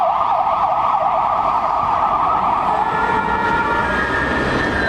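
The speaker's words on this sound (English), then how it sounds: "There's too many sirens." Emergency vehicle sirens blare at a Bratislava train station, a loud wailing tone sweeping up and down continuously, later joined by a second overlapping siren pattern.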